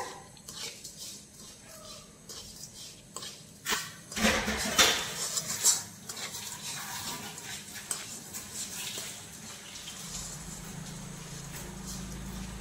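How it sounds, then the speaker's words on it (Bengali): A spatula scrapes and clatters against a pan as sugar melts, with irregular metallic strokes that grow busier in the middle, over a low background hum. "সবসময় খুন্তি চালাতে হবে, না হলে পুড়ে যাবে।"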